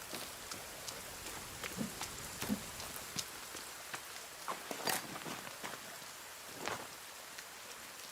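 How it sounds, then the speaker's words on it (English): Rain in the PC survival game The Forest, a quiet patter of scattered drops with soft irregular ticks and splashes over a faint hiss. "That is a really lovely sound effect they have for the rain."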